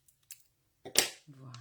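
Scissors snip through a small piece of paper for a handmade card, a couple of faint clicks followed by one sharp close cut, with a quiet voice briefly afterward.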